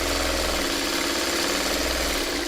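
A sewing machine runs steadily, stitching fabric right up to the seam allowance. Its motor gives a continuous, even whir with a low rhythmic chatter, close and fairly loud, and no voices are heard.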